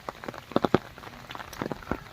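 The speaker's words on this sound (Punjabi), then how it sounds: "ਕੱਲ ਤੋਂ ਮੀਂਹ ਪੈ ਰਿਹਾ ਸ਼ਾਮ ਤੋਂ 3 ਵਜੇ ਤੋਂ ਪੈਂਦਾ ਹਟ ਜਾਂਦਾ" Scattered monsoon raindrops patter on a surface in uneven bursts, some louder and closer, with no voices.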